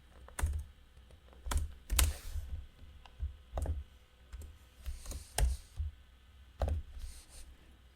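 Clicky computer keyboard typing while writing C# code comes in short irregular bursts of keystrokes, close and fairly quiet, with pauses between groups.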